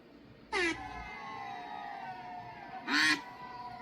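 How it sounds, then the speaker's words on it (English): Two short, loud nasal duck quacks, a sound effect, a couple of seconds apart, ringing against a steady high hum. "You got to hear them quacks."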